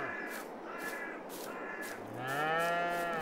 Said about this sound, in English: There's our cows.